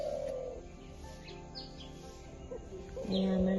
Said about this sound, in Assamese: এয়া চৰাই মাত শুনিবলৈ পাইছে